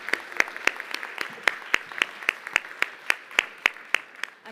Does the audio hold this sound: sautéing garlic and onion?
no